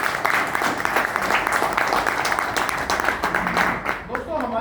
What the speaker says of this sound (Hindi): एक बार हमारी कंपनी के लिए और हमारे सीएमडी सर के लिए जोरदार तालियां।